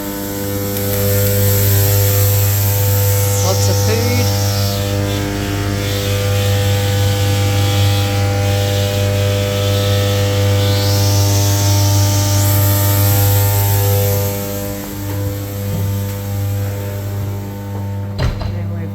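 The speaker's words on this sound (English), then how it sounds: "It might get noisy here because the cold room is noisy." A kitchen cold room's refrigeration runs with a loud, constant electrical hum and a whining drone, with faint mechanical clicks over about nineteen seconds.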